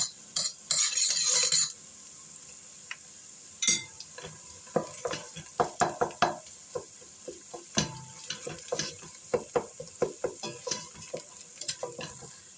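Onions and tomato paste crackle as they fry in a hot pan while a utensil scrapes and taps repeatedly in an irregular stirring rhythm, close and clear, with no talking.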